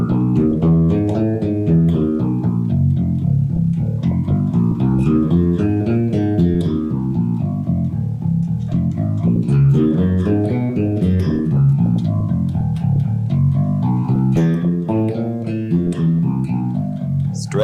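Bass guitar finger exercise plays as a steady stream of plucked notes moving stepwise up and down, close and loud with no talking.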